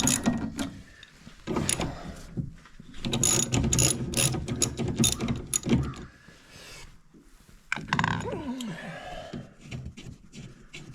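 Ratchet turning 14mm wiper arm bolts on a 2012–2015 Hyundai Elantra, rapid close clicking in bursts with short pauses and a few metallic clinks between.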